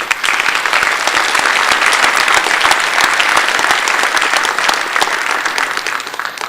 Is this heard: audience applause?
yes